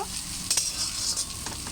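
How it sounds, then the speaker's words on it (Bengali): Leafy greens stir-fried in a pan, a bright close sizzle with a few quick scrapes of a spatula over a short stretch, no voices. "তো এই যে আমার শাকটা ভালো করে ভাজা হয়ে গেছে"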